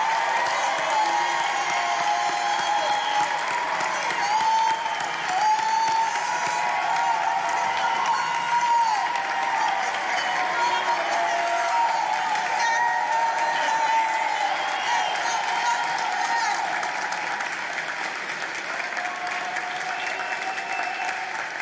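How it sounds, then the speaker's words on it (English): A large crowd at a University High School commencement gives long, sustained applause for the graduating class of 2022, with occasional whoops and cheers mixed into the clapping. "Please join me in one last round of applause for the class of 2022."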